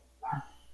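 A single short dog bark, close and moderately loud, a brief burst followed by quiet room tone.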